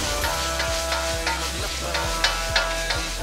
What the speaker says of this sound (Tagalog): gisahin lang natin mabuti yung sibuyas natin hanggang lumabas lahat yung water content niya